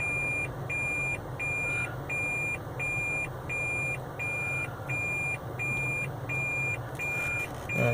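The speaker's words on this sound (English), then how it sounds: "I only wish it wouldn't beep at me, this fucking thing" Inside a taxi backing toward a curb, a car's parking sensor gives a steady run of short, evenly spaced beeps over low engine and road rumble, and the beeps come slightly faster near the end.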